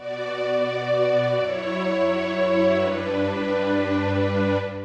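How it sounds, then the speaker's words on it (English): A warm, sustained synth string chord swells and shifts slowly, thick and buzzy like an analog string ensemble, with no voices. "So a really nice kind of analog-y string sound there."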